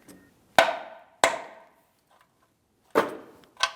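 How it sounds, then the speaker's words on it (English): Four sharp metallic taps from a small hammer knocking a brake flex hose loose from its bracket on a 2007-2014 GMC Sierra 2500 HD, close and ringing briefly, spaced irregularly with a longer gap before the last two. "you can tap it out of position using a small hammer"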